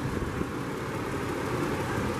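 A 2016 Subaru Outback 3.6R Limited wagon engine runs at a steady idle, a low, even, continuous hum heard close with no other sounds.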